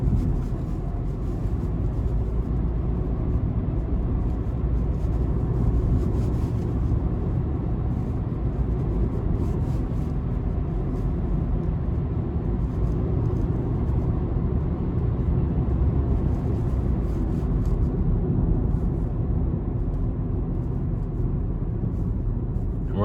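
2016 Chevrolet Spark with a CVT accelerating under throttle, heard from inside as a steady, loud low engine and road drone that holds an even pitch with no gear shifts.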